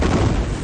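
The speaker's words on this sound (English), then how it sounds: "Here's the short clip that we got of that ammunition explosion." An ammunition depot goes up in a chain explosion, heard as a single loud, close, rumbling boom that fills the short moment without fading.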